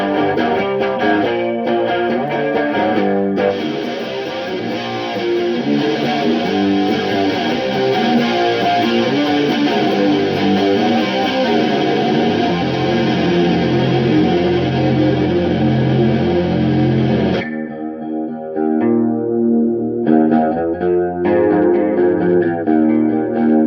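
Distorted electric guitar playing a sustained riff through an amp with its bright switch turned off, chasing a band's tour tone; loud, dense and continuous, with a brief drop-out near the end before playing resumes.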